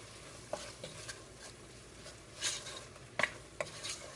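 Chicken curry sauce with potatoes being stirred in a pot, soft scraping and thick sauce sounds with a few sharp utensil clinks against the pot, quiet and close with no talk.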